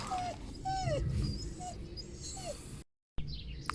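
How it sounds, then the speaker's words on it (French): A dog whines and whimpers in thin, high repeated cries over outdoor garden ambience with faint birdsong, fairly soft, ending in a brief dropout. "Oh, le chien."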